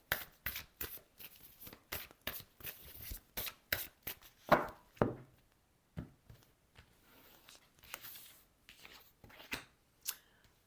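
Tarot cards being drawn and laid out during a reading, with quick, close papery slaps and shuffling flicks in a busy burst that thins into sparse, soft placements.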